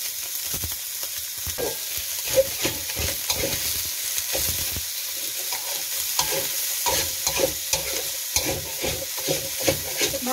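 Mixed vegetables go into a hot pan for squid fried rice, stir-fried with a loud steady sizzle and repeated scraping, clattering spatula strokes throughout.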